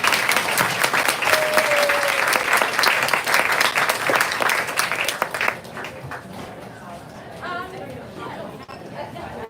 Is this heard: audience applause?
yes